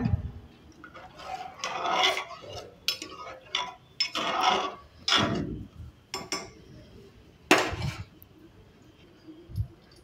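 A spoon scrapes and stirs around a pan after salt and a pinch of sugar go into a matki (moth bean) curry, giving repeated rasping strokes in uneven bursts, close and fairly loud.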